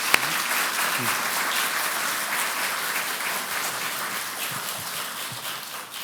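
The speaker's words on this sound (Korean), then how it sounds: "박수로 환영했습니다." Sustained applause from a church congregation at a retirement service, dense and even, continuing for several seconds and easing slightly at the end.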